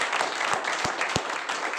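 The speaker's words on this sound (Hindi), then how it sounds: "मैं आप सभी के लिए एक बार चाहता हूं जोरदार तालियां होनी चाहिए" An audience in a seminar hall gives a brief round of hearty clapping, continuous and fairly close, with a few sharper low thumps standing out from the steady applause.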